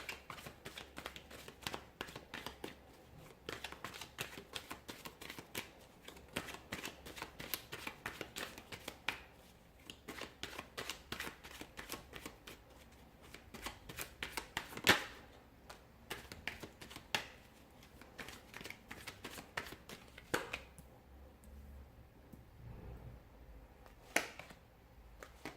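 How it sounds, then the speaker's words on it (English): Tarot cards are shuffled by hand in many quick riffling bursts of crisp, close, dry clicks and slaps, with no talk and a quieter stretch near the end. "So we'll give the cards a shuffle"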